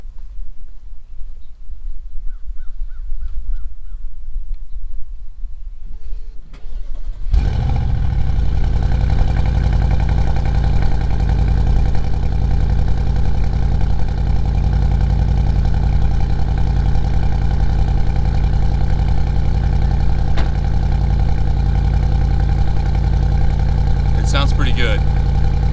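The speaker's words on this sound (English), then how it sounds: "let's see if we can get this exhaust note to show up on camera, or at least you guys hear it" A Cadillac ATS-V engine starts up and settles into a loud, steady, deep idle exhaust rumble with exhaust valves open, continuing without letup, with a brief rattle near the end.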